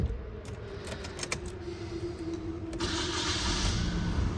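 A non-turbo automatic Nissan Skyline sedan's engine starts up close by and settles into a steady, even idle hum, with a few light clicks near the start.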